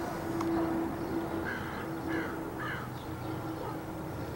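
A crow caws several times in a loose series, moderately close outdoors, with a few short harsh calls clustered in the middle and a faint steady background hum.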